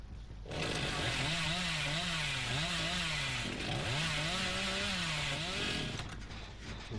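A chainsaw revs continuously in the Dead by Daylight video game, a loud, steady buzzing drone whose pitch wavers and dips twice, sustained for several seconds with no talking.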